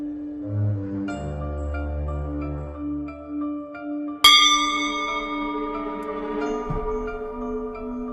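A bell struck with a crystal clapper rings out with a sharp strike about halfway through, followed by a bright, sustained ringing tone that slowly decays over a low hum and steady tonal drone.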